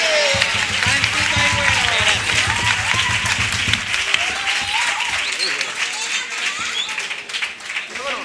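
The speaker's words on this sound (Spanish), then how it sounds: "Otro aplauso para ellos" A carnival comparsa crowd in Arcos applauds loudly and continuously, mixed with lively voices and a low musical hum at the start.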